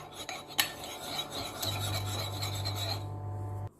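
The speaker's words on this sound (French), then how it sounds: "J'ai terminé de mélanger." Eggs are whisked with a utensil in a bowl for homemade burgers, giving a close, brisk scraping and rasping rhythm that runs for a few seconds and then stops abruptly.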